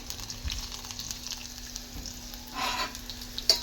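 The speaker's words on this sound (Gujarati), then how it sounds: "તેલ ઉડ્યું યાર" Hot oil with cumin seeds spitting and splattering while tempering a vegetable dish, a soft ongoing sizzle with a brief louder burst of spattering near the end.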